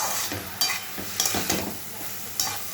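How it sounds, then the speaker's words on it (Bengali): A banana flower and prawn curry is stirred in a pan, with a spoon scraping and clinking against the metal in short irregular strokes over a soft steady sizzle. "এবার ভালো করে নেড়ে ঢাকা দিয়ে দেবো।"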